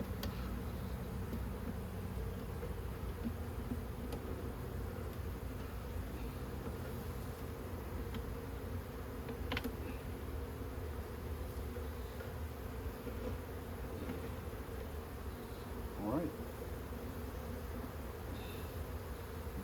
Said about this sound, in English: let all the bees get out of the way, give them a second